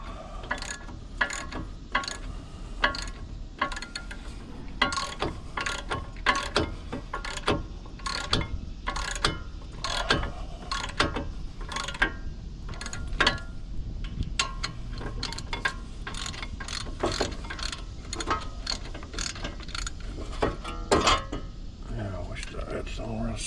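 A ratchet wrench clicks in a steady run of sharp, close ticks, working loose 5/8 bolts on the front brake of a 2017 Jeep Renegade Trailhawk, with a voice talking over parts of it.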